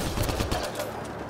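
Rapid bursts of gunfire from a sci-fi shooter game, Mass Effect: Andromeda, crackle in a quick volley and then thin out over a steady backdrop of game noise.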